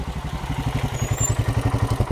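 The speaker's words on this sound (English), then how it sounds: "This motorcycle is loud." A KTM 250 Adventure motorcycle engine idles nearby with a steady, rapid thumping pulse and a low, rough exhaust rumble throughout.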